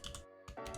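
Code for a Discord bot being typed on a computer keyboard: a close burst of key clatter, a brief pause, then another quick flurry of keystrokes, with no voices.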